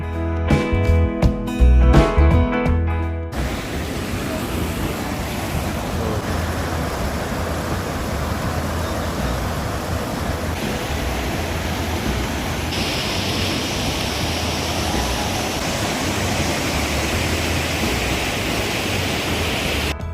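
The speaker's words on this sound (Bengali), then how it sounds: "এই নদীটা যে স্রোতধারা এই স্রোতধারাতে পাথরের যে সংঘর্ষ" A river near the Bhutan border, by a rubber dam, rushes steadily over stones in a loud, continuous broadband roar. A few seconds of louder, uneven sound open it before the flow settles into a constant wash.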